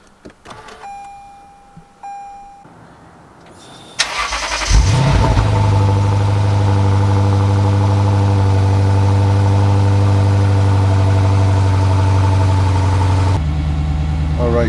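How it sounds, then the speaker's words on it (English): A Lexus RC F starts after a few seconds of quiet and faint clicks: a loud crank and rev flare, then a steady deep idle that holds close by until the sound changes near the end. "Just started up the RCF."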